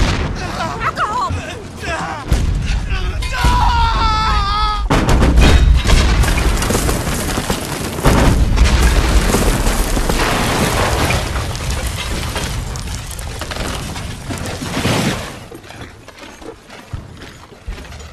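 Heavy gunfire and explosions in a Hollywood war movie: dense, loud booms and rattling bursts run almost continuously, with shouting voices mixed through the chaos.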